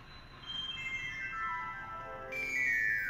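Electronic tones from the Listening Glass iPhone app playing through a phone speaker, with overlapping sustained tones sliding in pitch and a brighter layer joining near the end, fairly faint and without talking.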